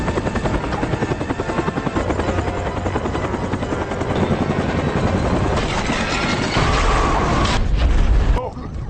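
A helicopter in a film action scene thunders continuously up close with fast rotor chop, while bursts of gunfire and booms break through toward the end.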